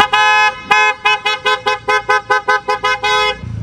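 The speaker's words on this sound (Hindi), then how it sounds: "तो इसमें हॉर्न भी जो है ट्रम्पेट वाले लगाए" Trumpet-style aftermarket horn fitted to a modified 2024 Kia Carens, blaring close and loud: one long blast, then a rapid series of about ten short, evenly spaced honks.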